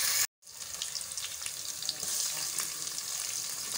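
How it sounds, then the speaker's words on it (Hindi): Onions fry in a pan for chicken nihari, a steady loud sizzle and crackle that briefly cuts out, then continues close up without any talk. "यहाँ पे हम लोगों ने प्याजों को रख दिया है पकने के लिए, तो हम लोगों ने हल्का सा इनको ब्राउन करना है"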